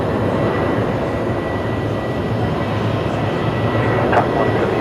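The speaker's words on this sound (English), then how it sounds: "Right, Qantas 639 off to Melbourne next." Qantas flight 639 airliner beginning its takeoff roll at Brisbane Airport, bound for Melbourne: a continuous low engine rumble and broadband roar, fairly loud and even, with faint higher whines and a short bump near the end.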